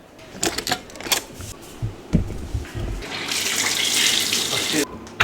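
Hot water running from a jacuzzi tap: a few light clicks and knocks, then a steady, fairly loud rushing hiss of flowing water that holds for a couple of seconds before cutting off.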